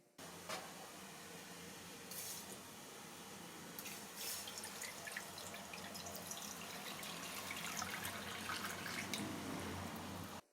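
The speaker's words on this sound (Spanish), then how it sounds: "Agregue medio litro de agua corriente." Water runs from a tap into a sink in a soft, steady stream, with a few splashy surges along the way. It is fairly faint and heard alone.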